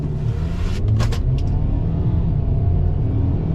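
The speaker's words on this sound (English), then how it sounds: "EcoBoost doing a nice job getting this truck up to speed, no problem." A 2023 Ford Maverick XLT AWD pickup with an EcoBoost engine accelerating hard, a loud steady engine and road drone from inside the cabin, with a few brief higher-pitched noises partway through and no talk.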